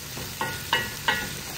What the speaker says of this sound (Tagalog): at magbisa ng bawang at sibuyas. Mix mo lang ng mix.